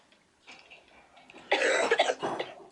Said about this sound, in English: I'm glad you waited till you got back in your room to cough.